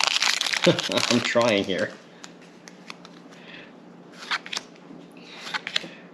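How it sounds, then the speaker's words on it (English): Pokemon Scarlet and Violet booster packs being torn open and cards shuffled, with crisp crinkling of foil wrappers and light card flicks, close, partly under a voice. "I'm not opening these packages fast enough because my son's ahead of me."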